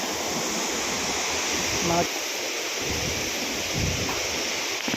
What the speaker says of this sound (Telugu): Maya water falls visit.